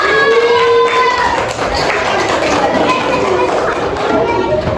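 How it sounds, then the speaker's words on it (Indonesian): Children in a third-grade classroom clap for a classmate, a dense close patter of many small hands mixed with young voices calling out over the steady noise. "Berikan tepuk tangan buat temannya yang sudah."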